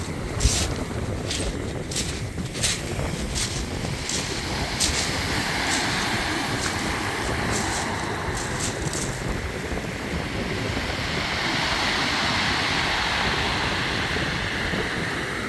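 Sea waves wash over a shingle beach between Rye Harbour and Winchelsea Beach in steady wind, a continuous broad roar with brief clicking rattles of stones early on and a swelling surge toward the end.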